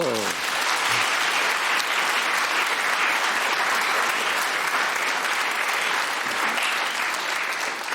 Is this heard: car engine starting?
no